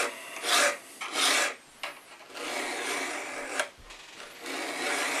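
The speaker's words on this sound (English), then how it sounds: "A very fine file. And I use this for sharpening saw blades, like hand saws. Just make it nice and flat." A very fine file rasping a wooden chair part flat, heard as close, rough strokes with short pauses: two distinct passes, then longer continuous filing.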